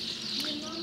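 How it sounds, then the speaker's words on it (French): Pigeons or doves coo softly near a hotel pool in Portugal, a faint brief call under a voice talking. "Ils sont toujours là les oiseaux."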